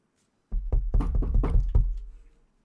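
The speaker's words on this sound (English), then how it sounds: "you walk up and you knock on the door" Knocking on a front door reached from a porch, a run of several close, firm thumps in quick succession, loud and near, with no voices over it.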